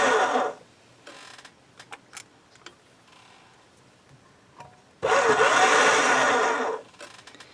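A motorized pasta machine rolls a small block of polymer clay, giving two loud whirring runs at the start and again later, with light clicks and taps in the quieter gap between them.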